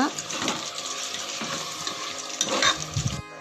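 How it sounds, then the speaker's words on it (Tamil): Coriander leaves and mint being stirred into chicken 65 biryani masala in a pot, giving a steady wet scraping and sizzle with a few louder clatters near the end. "கொத்தமல்லி தழை, புதினா எல்லாம் சேர்த்துட்டு நல்லா மிக்ஸ் பண்ணி விடுங்க."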